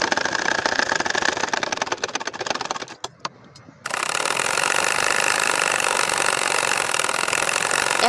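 A household sewing machine stitches a double potol-pata (gourd-leaf) motif into a nakshi kantha quilt. Its steady mechanical whir runs close and loud, halts briefly with a few clicks, then restarts and continues evenly.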